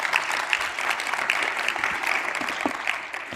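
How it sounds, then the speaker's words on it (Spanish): Congregation applause at a church service, a steady dense wash of many hands clapping close by, sustained and even throughout with no voices over it. "Dale un aplauso de gratitud al Señor."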